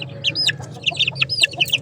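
Pure native free-range chickens on a farm make close, rapid high peeps and short clucks in quick overlapping bursts, over a steady low hum.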